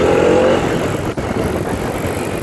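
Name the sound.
Bajaj Dominar 400 motorcycle accelerating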